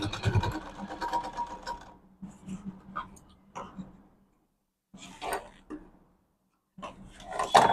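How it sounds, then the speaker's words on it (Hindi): Sewing machine running a double seam on a medium-size bag, several short bursts of stitching separated by quiet pauses, close and fairly faint. "यहाँ पे हम इस तरह से डबल सिलाई लगाएंगे"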